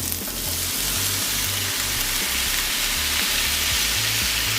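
Tomatoes hit a hot pan of browning onions, setting off a loud, steady sizzle of frying that runs for the whole stretch with no voices.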